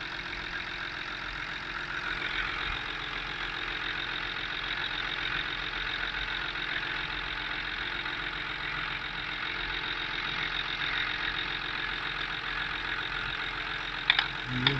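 A Range Rover engine idles steadily beneath the vehicle, its exhaust giving a slightly rough, uneven note. The hum is continuous and fairly loud for the whole stretch, with no talking.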